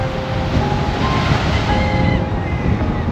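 Strong wind buffets the microphone at an ocean dock in Kahului, Maui, a steady loud roar with surf rushing underneath, no voices.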